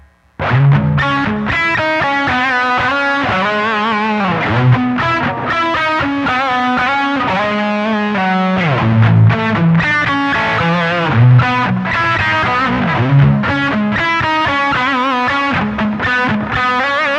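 Continuous electric guitar playing through a Voodoo Lab guitar preamp, with a slightly overdriven tone and a touch of reverb, a busy stream of riffs and chords throughout.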